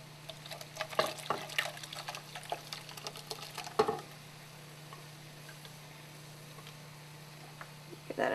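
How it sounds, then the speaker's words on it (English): Poblano pepper and half and half go into a pan of green chile cream corn, with soft stirring, light sizzling and a few close clatters of utensils before the bubbling quiets to a faint simmer. "We're gonna add our poblano pepper and our half and half."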